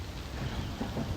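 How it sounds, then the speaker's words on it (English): Steady rain falling outdoors at Huntleys Point in Sydney, a dense, even hiss of drops with a low rumbling undertone, continuous and fairly close throughout with no voices. "I'm getting rained on, but I'm trying to stay out of the rain"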